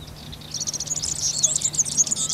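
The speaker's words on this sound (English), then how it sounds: "It is the great reed warbler, which can be heard throughout the nature reserve from early April." Busy, chattering bird song in the high register, a great reed warbler singing continuously at moderate distance over a low steady hum.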